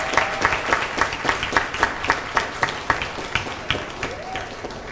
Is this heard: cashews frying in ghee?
no